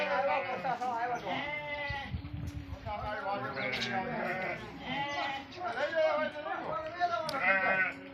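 Goats and sheep bleat repeatedly, some cries wavering and overlapping, while voices sound in and around the calls throughout.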